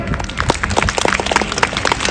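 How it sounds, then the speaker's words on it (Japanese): Audience at a horse show at Obihiro racecourse clapping together on cue, a dense, steady patter of many hands throughout, fairly loud and close with no talk over it. "ちょっと拍手を練習してみましょうか"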